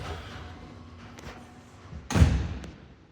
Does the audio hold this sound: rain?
no